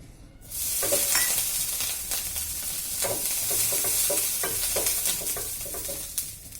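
A dosa sizzles with oil on a nonstick pan in a continuous close hiss, with light scraping taps breaking through repeatedly.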